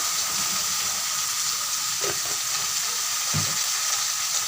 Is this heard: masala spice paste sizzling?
yes